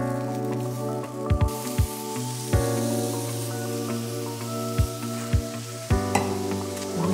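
Cherries sizzle on a hot grill for a grilled fruit salad, a steady loud hiss with a few sharp taps and crackles of food being moved on the grates.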